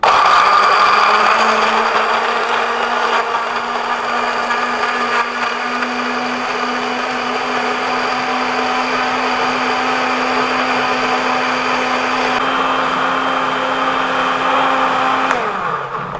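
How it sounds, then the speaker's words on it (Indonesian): A blender whirs steadily and loudly for a long stretch at a constant pitch, grinding a spice paste for rawon beef soup, then winds down at the very end. "Lalu kita blender. Kita blender sampai halus."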